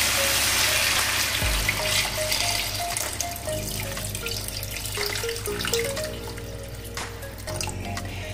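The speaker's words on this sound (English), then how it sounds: "We can now add water." Water from a tap poured into a cooking pot with beef shank for kare kare, a steady splashing and trickling stream with shifting pitch as the pot fills, close and clear.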